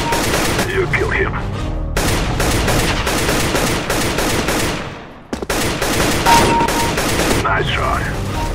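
Rapid automatic gunfire bursts from CS:GO crackle loud and dense, with a brief lull near the middle before the shooting resumes, while a voice is faintly heard underneath.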